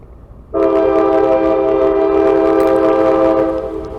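A CSX M210 freight train sounds its horn near Climax, Georgia: a loud, sustained chord that starts abruptly and holds steady for several seconds, with rumbling rail noise underneath.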